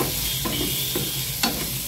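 A tomato mixture with sugar, chili powder and curry leaves sizzles steadily in a pan while a spoon stirs it, with a few distinct scraping strokes over the even frying hiss.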